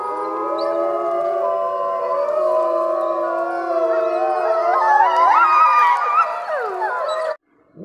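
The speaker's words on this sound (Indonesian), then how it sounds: "Wah, yang ini serigala." A toy wolf gives a loud electronic howl, several layered tones sounding together, rising and wavering in pitch toward the end before cutting off abruptly, followed by a short silence.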